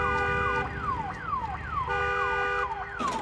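A car alarm in the Days Gone video game wails in repeating falling sweeps with a steady pulsing tone underneath, loud and close, cycling several times.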